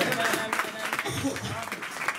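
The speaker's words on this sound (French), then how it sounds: "Donnons une acclamation" A church congregation applauds with dense clapping and cheering, while a preacher speaks over the noise.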